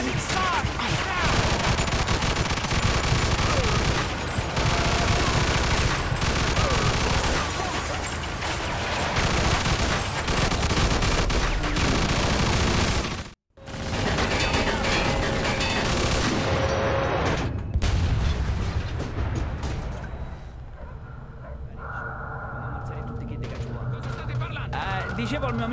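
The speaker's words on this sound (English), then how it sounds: "Get on that machine gun! You see that gun on the balcony, Skeletor? Oh shit, they got artillery" Machine gun and artillery fire in the Mafia 2 Definitive Edition video game: a loud, dense, sustained barrage with heavy booms, briefly cutting out midway, then thinning toward the end, with voices shouting over the battle.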